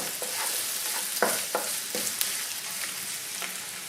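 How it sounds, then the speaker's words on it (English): Minced rehydrated chilies stir-fried in a pan for a vegan Cambodian samlor machu soup, a steady close sizzle broken by several sharp scraping strokes of a utensil, with no talking. "Then add 2 minced rehydrated chilies, and continue to stir fry for about 20 to 30 seconds"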